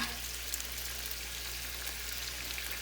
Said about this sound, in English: Put all my onions in.